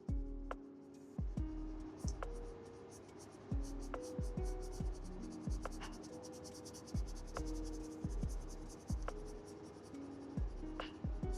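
A pen shading tone on paper with rapid, close scratchy strokes in quick repeated bursts, all quiet and intimate, broken by brief pauses, with a faint steady hum behind.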